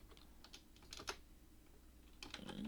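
Light typing on a computer keyboard, scattered soft key clicks in short irregular bursts, faint and close, with a small cluster near the end.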